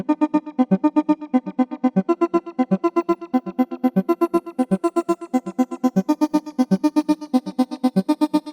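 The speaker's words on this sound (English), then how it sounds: "Now we can start adding the sample rate reduction." A pulsing synth sequence repeats in a steady rhythm, its tone gritty and crunchy from bitcrushed, lo-fi sample rate reduction, with no voices.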